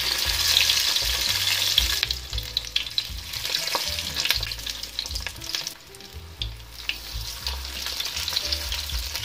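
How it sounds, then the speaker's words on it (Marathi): Alu vadi rolls frying in oil in a pan, a loud, steady crackling sizzle with bubbling and occasional spatters that ebb briefly midway, no talking. "गॅसच्या मीडियम फ्लेम वरतीच आपण हे रोल फ्राय करून घेणार आहोत"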